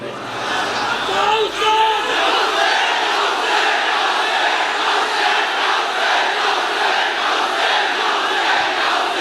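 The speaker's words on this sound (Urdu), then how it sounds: "پوری گلی سے لے کر یہاں تک یا حسین کے نعرے لگ رہے ہوں۔" A large crowd at a religious gathering chanting Ya Hussain slogans, a loud continuous mass of voices with a raised shout near the start, sustained and dense throughout.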